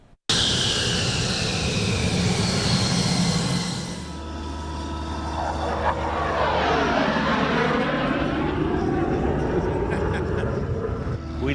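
A fixed-wing airplane roars past at the Pueblo Wings of Pride airshow, where the Thunderbirds perform, a loud sustained engine drone that shifts in pitch as it passes, close and unbroken for about eleven seconds.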